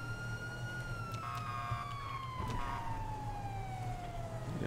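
Police siren in GTA 5 with the LSPDFR mod, a steady sweeping wail running the whole time over a constant engine rumble, close and loud.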